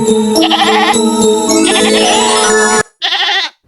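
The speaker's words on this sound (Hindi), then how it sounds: "यह तो बकरी के चिल्लाने की आवाज है" A goat in a Hindi cartoon bleats loudly up close: one long wavering cry, then a short gap and a second, briefer bleat.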